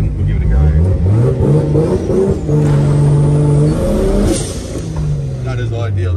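A drift car with an 8HP automatic transmission launching in second gear with clutch slip, its engine roaring loud and close with rising and falling revs, and a voice speaking over it.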